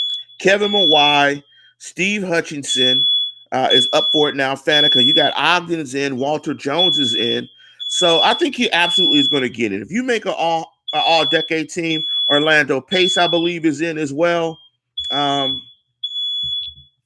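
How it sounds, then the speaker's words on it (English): A smoke or fire alarm beeps in short, regular bursts in the background during a live sports talk show, repeating throughout beneath continuous talk. "listeners, if you hear a fire alarm in the background"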